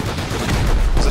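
Turret gunfire in the game Rust, a brief burst of rapid booming shots up close, mixed with background game noise.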